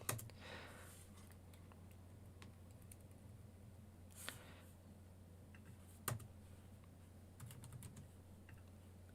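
Sparse, quiet keystrokes on a computer keyboard while code for a Raspberry Pi Pico servo project is entered, a few scattered clicks and short flurries over a low steady room hum, no talk.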